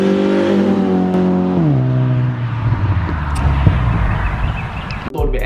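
A car fitted with a Skunk2 Mega Power exhaust revs up loudly, the engine note climbing and then dropping as it eases off, settling into a rumbling idle before a sharp pop or crackle near the end.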